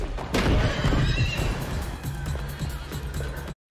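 Horses neigh and whinny loudly in a movie scene, with hooves clip-clopping underneath and a busy rush of action around them, ending in a brief cut to silence.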